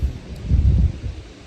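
Wind blowing outdoors on a rainy, cold day, a low rumbling gusty roar that swells and fades against the microphone with no voices.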